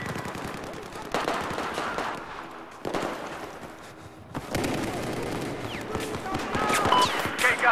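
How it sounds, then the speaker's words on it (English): Battlefield 4 team deathmatch gunfire: dense bursts of rapid automatic shots crackling in clusters, with sharp cracks and heavier bangs piling up over constant battle noise, loud and near, with speech mixed in. "Hear bullets."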